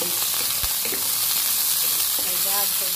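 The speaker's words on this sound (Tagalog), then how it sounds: "Since brown na yung ating sibuyas bawang, lalagay na natin ang black beans." Black beans hit a pan of sautéed, browned onion and garlic, setting off a steady, close sizzle and frying crackle with stirring scrapes throughout, no talk.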